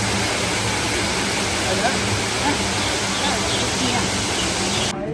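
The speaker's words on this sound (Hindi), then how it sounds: "झरने की फुहार जो है उनसे ठंडक फील हो रही है" Waterfall spray at the Rock Garden in Chandigarh gives a steady, broad rushing hiss of falling water that stays close and even throughout before cutting off abruptly at the end.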